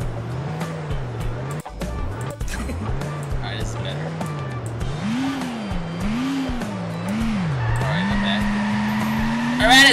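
A little yellow Ferrari crashes in the PC game Turbo Dismount, with a steady wavering engine tone, a sharp impact thud and tire squeals, while people talk throughout.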